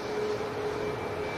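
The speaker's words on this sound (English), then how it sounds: "I'm just taxiing past at the RVP on the way out to Brussels for the Ryanair 73." A Ryanair jet taxis at an airport, giving a faint, distant, steady engine whine with a thin sustained tone over a low rumble.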